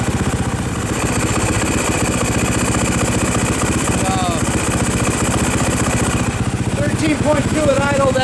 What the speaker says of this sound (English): Alright guys, bike fired right up, no problem.